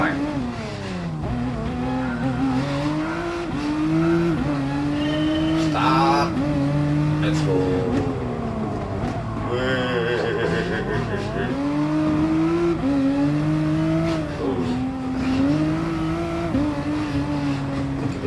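A race car in the Gran Turismo Sport video game, played with a PXN V900 wheel on a PS4 Slim along a long, dangerous track. The engine revs up and down close by, shifting through gears, with occasional tyre squeal.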